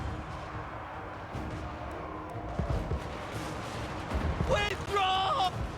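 Handgunner volleys in Total War: Warhammer 2 crackle against a battlefield din of clashing troops, with distant gun reports and crashes building toward louder bursts near the end, a narrator talking over it.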